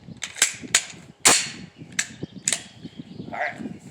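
Gunshots from a Glock 19X pistol firing steel-case 115-grain full metal jacket ammunition at a range, about seven sharp, fairly close cracks at irregular intervals, one louder than the rest, with faint mechanical clicks between them.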